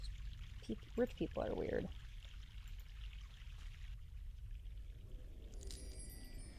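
Mountain water poured out in the adventure game The Longest Journey, a short splashing pour near the start beneath a voice, then a low steady ambience.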